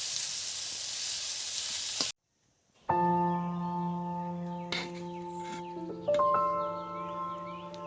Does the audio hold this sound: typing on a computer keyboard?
no